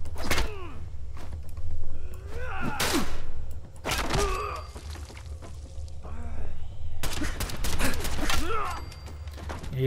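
Gunfire and combat clatter in Fallout 4, with repeated sharp bursts of shots and impacts in clusters, interspersed with grunts and mechanical clanks, loud and close.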